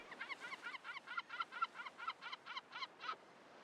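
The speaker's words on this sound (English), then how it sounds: "that's a loud ass seagull" A loud, close bird calls over and over in short harsh honking bursts, about a dozen evenly spaced calls in quick succession. Only a seagull is named as the source, and no one speaks over it.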